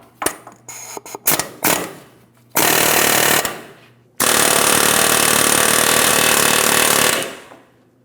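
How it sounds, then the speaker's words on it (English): An air hammer with a specialty bit rattles in several short bursts, then runs in two long sustained stretches, loud and close with sharp pneumatic chatter, working on a 2007-2014 GMC Sierra 2500 HD front steering knuckle. "I'm going to be using my air hammer with a specialty bit"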